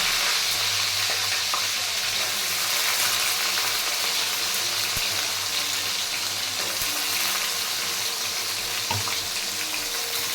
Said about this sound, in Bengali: গাজর, কড়াইশুঁটি, বিনস দিয়ে দিলাম কড়াই তেলে